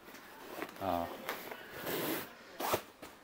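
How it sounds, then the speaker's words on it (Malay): The zipper on a Mobi Garden camping wagon is pulled shut in a few quick rasping strokes, close and clear, with a person speaking nearby. "kemudian zip, kita tutup balik zip dia"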